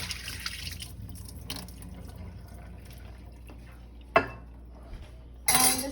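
Curdled milk and vinegar pour through a strainer into a pan with a soft, steady liquid wash, followed by a sharp clink and a brief louder splash near the end.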